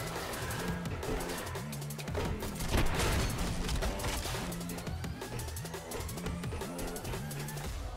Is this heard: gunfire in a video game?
yes